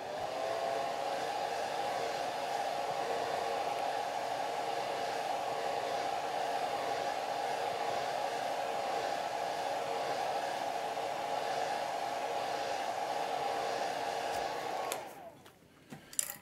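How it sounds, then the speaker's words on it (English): Hair dryer blowing steadily to dry a watercolor painting of a tree, a continuous close whooshing hum that runs alone for about fifteen seconds, then shuts off abruptly. "let me put the blow dryer on again."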